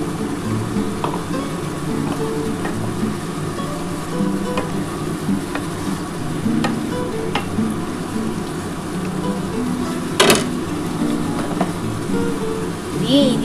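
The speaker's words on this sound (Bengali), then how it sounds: "এবার একটু গ্যাসটা জোরে করে এই যে মশলার যে জলটা আছে এই জলটা আমি দিয়ে দিচ্ছি।" Spice-infused water goes into chicken cooking over high gas in a chili chicken–style kosha, a steady frying sizzle with scattered small clicks and crackles and one sharper burst partway through.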